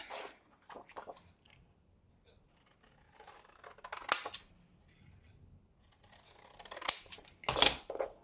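Scissors snip paper for a folded explosion box craft: a few quiet, scattered crisp cuts with longer sharper crunching snips near the middle and end, in a near-silent room.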